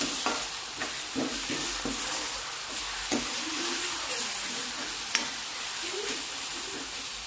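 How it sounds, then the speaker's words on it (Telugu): Onions sizzling steadily in a pan with salt, with repeated scraping and knocking of a spoon stirring them, a continuous close frying hiss throughout. "ఒక ఫైవ్ మినిట్స్ వేగనిద్దామండి మంచి బ్రౌన్ కలర్ వచ్చేంతవరకు చూడండి"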